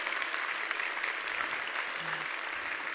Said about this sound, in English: a huge round of applause for our winners